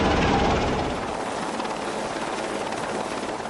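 A helicopter roars close and loud with a dense, thudding rotor wash, holding steady throughout during an emergency evacuation.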